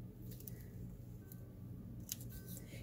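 A blade cuts a small slice from a block of polymer clay, giving a few soft, quiet scraping and squishing sounds close up over a low background hum.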